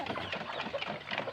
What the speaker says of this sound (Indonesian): ini pagi-pagi nih lagi ngasih makan ayam